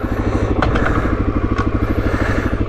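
A Suzuki DRZ400 single-cylinder motorcycle runs close by, its loud, steady thumping pulse clattering on with a couple of sharp ticks mixed in.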